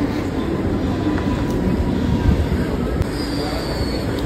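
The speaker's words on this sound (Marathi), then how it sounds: "तितक्यात दुसरी ट्रेन आली." A Mumbai local train pulls into a crowded platform, a loud, steady low rumble with a faint high squeal and a background murmur of people.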